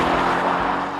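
A Mercedes-AMG GT sports car drives on a road along the North Coast 500 in Scotland, its engine a loud dense roar sustained through the whole brief moment without voices.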